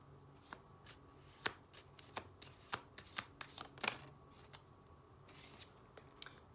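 Tarot cards are shuffled by hand in a quiet room, giving a series of soft, crisp riffling bursts and taps, fairly close and spaced irregularly.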